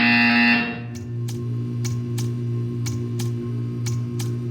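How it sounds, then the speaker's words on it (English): A buzzer in the Portal 2 video game, a loud electronic buzz that cuts off within a second, then a steady hum with evenly spaced ticks, no talk. "You will hear a buzzer."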